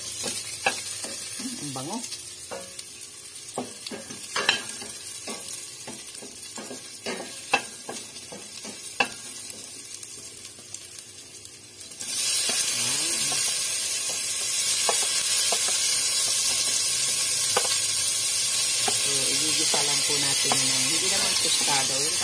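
Tofu is dropped into a hot pan with garlic, sizzling and scraped by a spatula with irregular clicks, and the frying jumps to a louder steady hiss about halfway through; a voice speaks briefly over it.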